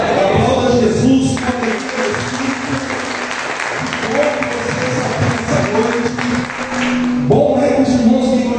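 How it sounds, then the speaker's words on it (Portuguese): A church congregation at a Sunday worship service claps together throughout, with the applause sustained under a voice speaking or singing over it. "Aplauda Jesus."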